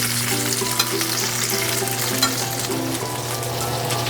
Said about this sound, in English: I'm going to pan sear the beef. Just a quick sear to get some caramelization on the beef.